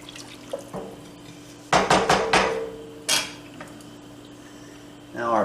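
A metal spoon scrapes and clanks against the bottom of a beef and barley soup pot. Brief knocks are followed by a quick flurry of rattling scrapes and a later clatter, close by with a steady kitchen hum beneath.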